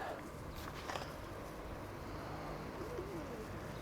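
Pigeons coo softly at a distance, a few faint low calls in a quiet room along with light shuffling sounds.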